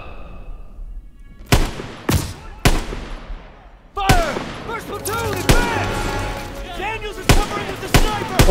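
Gunfire rings out in the WWII shooter Call of Duty: WWII, a few sharp single shots followed by rapid bursts and repeated cracks amid battlefield clatter, loud and close.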